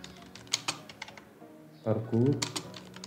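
Code typed on a computer keyboard, a quick run of crisp separate key clicks at close range, with a voice talking over part of it.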